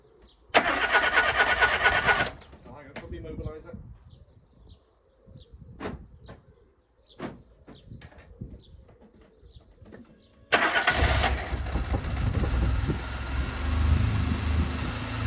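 A Renault Clio fitted with new spark plugs and a new battery cranks in a short loud burst, goes quiet with scattered clicks, then cranks again and catches. It settles into a steady close idle.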